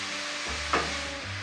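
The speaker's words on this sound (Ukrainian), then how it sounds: "Перемішуємо цибулю, щоб не збуріла." Chopped onion frying in a pan gives a steady sizzle while being stirred, with a brief scraping stir sound partway through over a low background hum.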